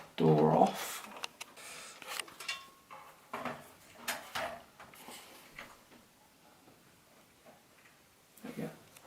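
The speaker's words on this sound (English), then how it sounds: "what we need to do is take this door off" The side door panel of a Lian-Li O11 PC case being taken off, with scattered metallic clicks, taps and clatters as it is handled, a louder knock near the start and a voice talking quietly in between.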